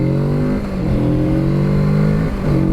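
A 2018 Kawasaki Z650 ABS parallel-twin motorcycle accelerating up close, its droning pitch climbing through a couple of gear changes, loud and steady with no speech.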